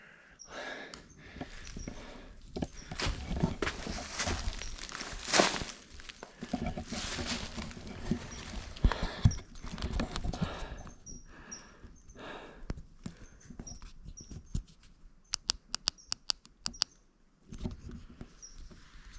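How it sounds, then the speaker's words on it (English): Bats squeak and flutter in a cave, with a dense patter of high chirps and soft rustles that thins into scattered sharp clicks. "The bats are flying around here."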